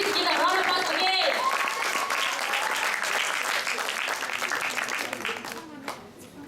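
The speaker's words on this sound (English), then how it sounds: "Please give a round of applause again." A hotel-hall audience at an English program claps in a dense round of applause that thins and fades toward the end, with a few voices and scattered claps left.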